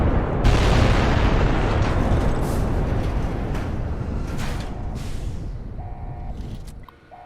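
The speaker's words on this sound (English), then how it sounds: "Distant explosions everywhere." A heavy, rumbling boom from distant explosions in Fallout: New Vegas rolls on and slowly fades, with a few faint beeps toward the end.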